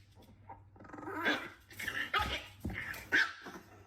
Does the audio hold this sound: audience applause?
no